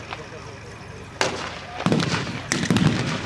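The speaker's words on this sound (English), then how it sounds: "We've got all the simulated explosions and stuff." Three sharp simulated battlefield explosions at the Tank Museum's Tankfest 2023 battle show go off one after another over a low background din, each a loud crack followed by a rumbling tail.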